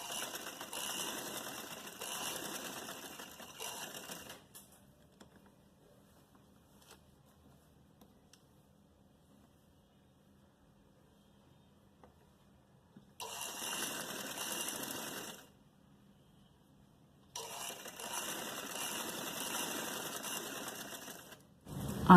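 A sewing machine stitches a salwar in three rapid, whirring bursts separated by quiet pauses. The machine is close and fairly soft, with no talking.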